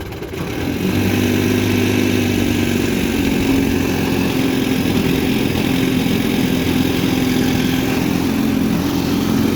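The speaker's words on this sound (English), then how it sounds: "Pretty decent idle on this once it's adjusted and happy." A 1960 Scott-McCulloch 12/14hp outboard motor idles steadily on a lake, a close, even mid-pitched engine drone with a constant low hum and no voices.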